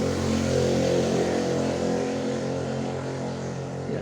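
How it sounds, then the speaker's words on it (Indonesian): A motorcycle passes by outside, its engine a steady droning hum that starts fairly strong and slowly fades as it moves away. "suara motor lewat ya."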